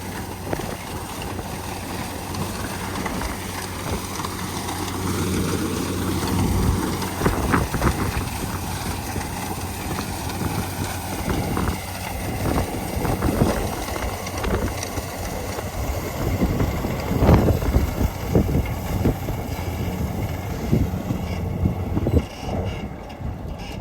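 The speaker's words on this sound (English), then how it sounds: "hope you can hear that Cummins engine" A Cummins engine on farm harvesting machinery runs steadily at a distance, a low continuous drone mixed with wind noise and occasional clunks, no talk.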